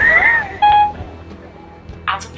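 Telephone dialing beeps for a call to Asu, a few short electronic tones in quick succession followed by a brief synthetic chirp, close and clear.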